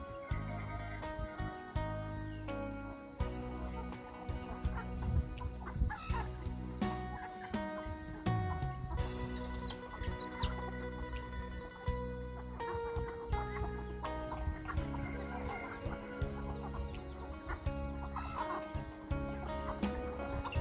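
Chickens on a rural village farm cluck and chatter busily while being fed in the morning, a flock of around thirty birds making overlapping calls throughout, with occasional faint background sounds.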